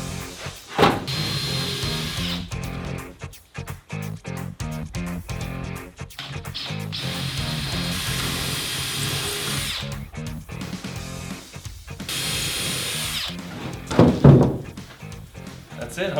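Power drill driving screws through backer boards into wooden shelves for a DIY tool caddy, several close bursts of whirring drill separated by short pauses and thunks, with some talk in between.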